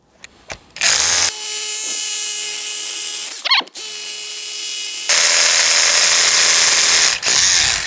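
A Hilti TE 6-A22 cordless rotary hammer drills holes with a loud, close, continuous hammering whine, pausing briefly between bursts and restarting, without speech.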